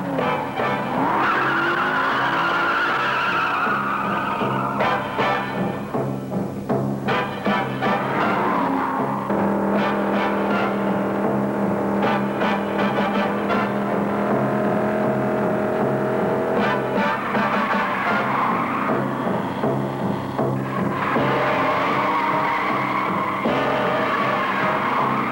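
A Jaguar XKE 4.2-liter coupe driven hard on a race track, its engine roaring loudly and continuously with revving surges, gear changes and bursts of tire squeal throughout.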